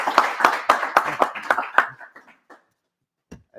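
Small audience at a live Q&A clapping, a few loud sharp claps in quick irregular succession that thin out and stop after about two seconds, followed by a brief faint knock.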